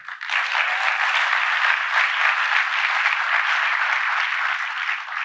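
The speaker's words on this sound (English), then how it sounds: "And look, you can cheer. It's all right." Crowd applauding and cheering at a presidential speech on the economy, a sustained wash of clapping from a large audience that rises quickly and stays full and even throughout.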